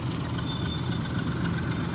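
A slow train rumbles past on the railway at a level crossing in Dęba Rozalin, a steady low mechanical roar and rolling noise close by, with no talking.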